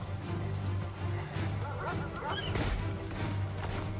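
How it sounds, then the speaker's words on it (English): A dog barks a few times during Final Fantasy XVI gameplay, sharp yaps rising over a busy bed of game sound and music at moderate distance. "keep barking at me with those claw marks in your face"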